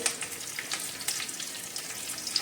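Curry leaves sizzle and crackle in hot oil for poha, a steady close frying hiss with scattered sharp pops and spits throughout, no voices.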